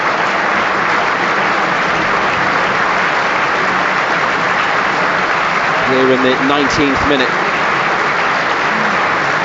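Stadium crowd at a Crystal Palace v Newcastle United Premier League match applauding in tribute to a young Palace supporter, a broad, steady roar of distant clapping under a radio commentator's voice.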